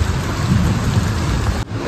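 Steady, loud rain pours down in a wet forest setting in northern Bengal, a dense continuous hiss with a deep low rumble beneath, briefly dipping near the end before resuming, with no voices.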